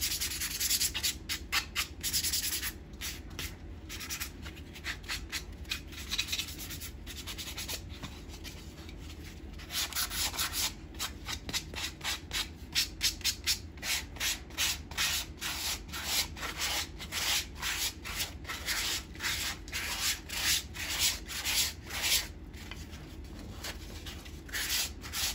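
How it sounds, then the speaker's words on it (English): Sandpaper scuffs the finished surface of a winged walnut wood bowl in a long run of quick, rhythmic rubbing strokes, close and fairly even in loudness throughout. "I'm gonna scuff it all up"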